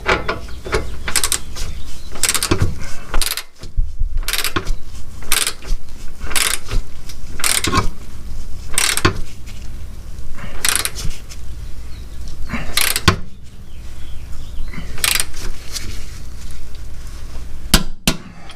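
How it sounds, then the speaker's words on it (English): A hand ratchet tightens a castle nut on the lower control arm of a 2006 Nissan Altima, clicking in loud, close, regular strokes with brief pauses between runs. "Putting the castle nut on here. I'm going to snug this down."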